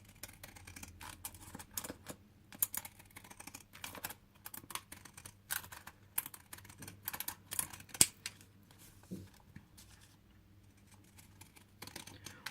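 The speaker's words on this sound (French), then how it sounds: "Je vais venir prendre mon ciseau cranteur, comme ceci." Pinking scissors snip around a paper Easter card in a quiet room, a series of close, crisp irregular cuts with short pauses between them.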